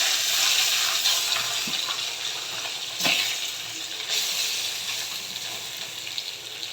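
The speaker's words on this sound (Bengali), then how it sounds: "মাছটি যে কড়াই হালকা পরিমাণ তেল দিছি তেল দিয়ে সরাত সরাত করে তেলের মধ্যে ফেলে দিতেছি" Fish frying in a little hot oil in a wok: a steady, close hiss and sizzle that holds throughout, swelling slightly in one brief surge midway.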